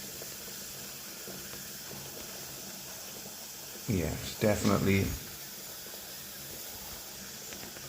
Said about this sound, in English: it's steam escaping from two probes, the one with a red cable on and then one with a blue cable on